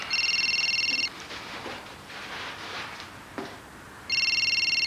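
A telephone rings in two clear bursts of trilling electronic tones, at the start and again near the end, with a quiet room and faint movement between them.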